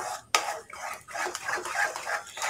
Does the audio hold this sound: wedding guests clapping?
no